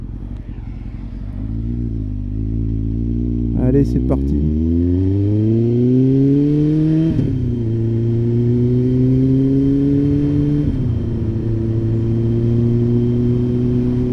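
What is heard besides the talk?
small motorcycle riding on a road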